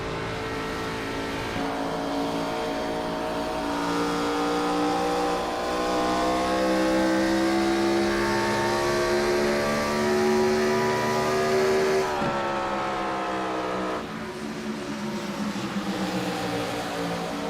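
A Gen 4 Cup race car at Darlington held at full throttle, its engine a loud, sustained high-revving roar with a steady pitch that shifts and dips briefly before pressing on.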